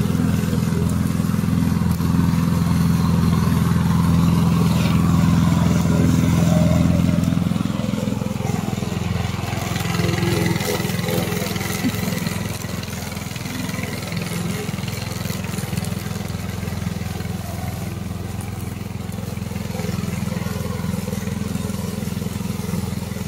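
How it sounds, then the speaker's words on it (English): A remote control lawn mower engine runs steadily with a buzzing, clattering mid-pitched drone, louder for the first several seconds then easing to a constant idle-like hum throughout. "We are remote control lawnmower factory."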